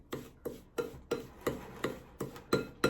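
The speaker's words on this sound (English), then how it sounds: "Now I'm going to mix it. So I use the back of a large spoon." A large spoon's back scrapes and rubs through a homemade olive-oil body scrub in a bowl, nine rhythmic gritty strokes at an even pace, close and clear with no talking.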